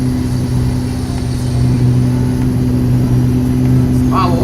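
A heavy truck engine in American Truck Simulator hauling about 50 tons drones steadily and loudly throughout, a low constant rumble with a faint rising whine near the end.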